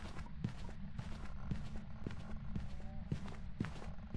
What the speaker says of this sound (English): Listen to the footsteps.